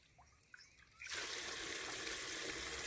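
A pot being rinsed with water outdoors: faint clinks and drips, then from about one second a steady, moderately loud rush of pouring water that runs on evenly to the end.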